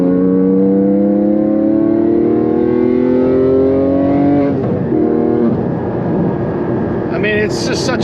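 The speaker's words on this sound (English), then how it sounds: "the sound of that engine, unreal" Porsche 718 Cayman GT4 engine on a street drive, a loud steady rising drone that climbs in pitch through the gears, then shifts to a rougher lower note as the revs drop.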